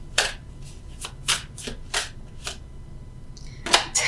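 Tarot cards shuffled and drawn for a reading, a run of crisp riffling and slapping bursts at close range, spaced roughly half a second apart and ending in a louder flurry, with no voices.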